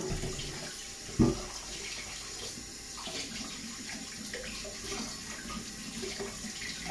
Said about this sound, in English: Just give the wok a rinse down.